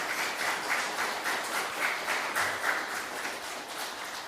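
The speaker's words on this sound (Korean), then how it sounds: "우리 하진 자매랑 그리고 엄주영 선교사님 박수로 환영하겠습니다." A church congregation at a Sunday service in Darmstadt claps in welcome for a missionary and a young woman, a steady, moderately loud wash of hand claps with no talk over it.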